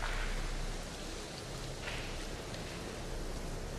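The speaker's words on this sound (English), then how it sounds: "the sound of rain pounding down on the ground" Rain pours steadily during a thunderstorm, a dense continuous hiss of drops hitting the ground, fairly faint and unbroken with no voices.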